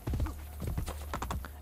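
Horse hooves clip-clop in the Assassin's Creed: Brotherhood video game, a quick run of sharp hoof strikes on a hard street, close and fairly quiet.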